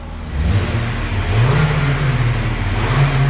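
A Toyota Corolla GLI 2.0 with its original exhaust revs up, the engine note rising and falling through two or three throttle blips, close and loud with a steady low rumble underneath.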